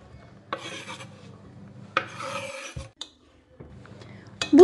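Irregular scraping and rubbing of a utensil against a bowl of cake batter, a few distinct strokes with short pauses between them, close by and fairly loud.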